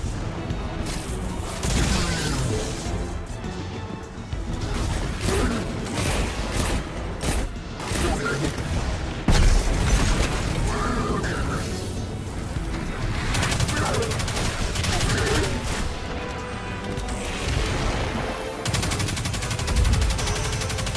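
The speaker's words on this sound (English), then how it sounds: "Pulse rifle." Rapid rhythmic bursts from a pulse rifle in Destiny 2 during heavy combat, loud and continuous with other weapon fire and impacts, and a player talks over it.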